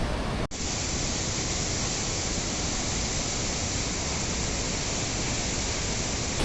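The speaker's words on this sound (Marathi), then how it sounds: "अतिशय सुंदर धबधबा आता मी तुम्हाला दाखवतोय बघा" A steady, dense roar of rushing water fills the whole clip, constant and loud, like a waterfall heard up close: Randha Falls at Bhandardara, Maharashtra.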